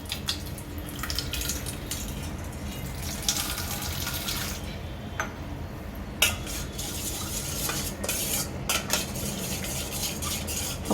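Dry yeast stirred into warm water in a bowl, heard as close, wet swishing and light scraping of a spoon against the bowl, with a few sharper clinks, no voices.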